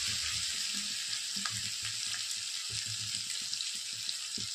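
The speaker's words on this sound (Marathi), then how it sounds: "आता याच्यामध्ये टाकत आहोत मसाले" Spices go into sprouted horse gram frying in a pan, giving a steady, close sizzle with a bright hiss throughout and faint low bubbling and stirring beneath.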